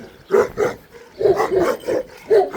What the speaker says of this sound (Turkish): Şu çok mu agresif bu havlayan?